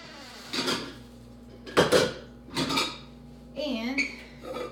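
A pan is pulled out and handled in a home kitchen, giving several separate bursts of metal clatter and knocks spread over a few seconds, close by and fairly loud, with a soft voice heard briefly between them.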